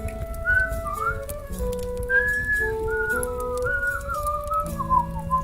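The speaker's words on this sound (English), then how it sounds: "just warming up his whistling, and not as a suggestion, but he's just whistling." A person whistles a cheerful melody during a tabletop role-playing session, clear wavering notes in a steady stream with a low murmur of a crowd underneath.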